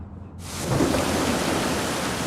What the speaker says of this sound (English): Suddenly, there was a heavy downpour just like in that movie.